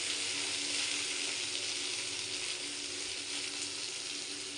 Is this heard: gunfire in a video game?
no